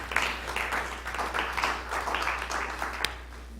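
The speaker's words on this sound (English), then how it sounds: "Yes, we can clap." A church congregation claps at a New Year's Eve service, moderately faint and fairly even clapping with a steady low hum underneath.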